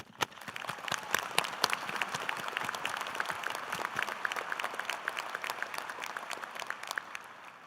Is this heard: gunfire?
no